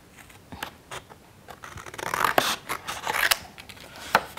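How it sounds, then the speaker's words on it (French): Scissors cut through a sheet of drawing paper in a run of crisp snips and rustles that grow denser and louder midway, close up with no talk. "je découpe cette partie."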